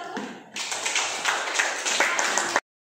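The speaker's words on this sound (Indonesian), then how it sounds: "Silakan kasih tepuk tangan untuk kelompok" Classmates clapping for a group in a classroom, a sudden burst of many hands applauding together that holds steady for about two seconds and stops abruptly.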